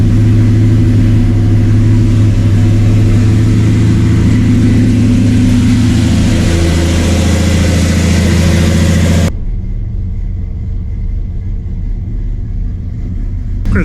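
A Blueprint 350 engine that has just started runs at a close, loud, steady idle with a deep rumble and a slight shift in tone. It cuts off abruptly near the end, leaving a faint hum.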